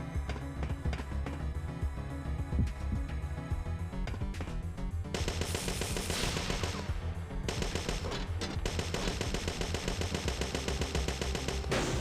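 Dense rapid gunfire from the Parasite Eve 2 video game rattles continuously, with bursts of automatic shots, louder and brighter in the later half, layered over game sound.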